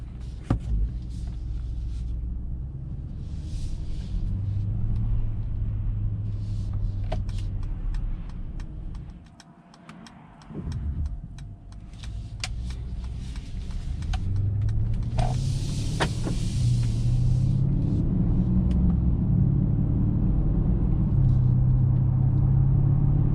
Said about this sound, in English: This twin turbocharged V8 sounds really nice